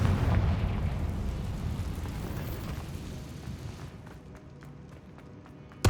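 Confringo fire spell blast in the Hogwarts Legacy video game, a rumbling explosive burst that decays over a few seconds into scattered crackles, fairly quiet overall, ending with a sharp pop.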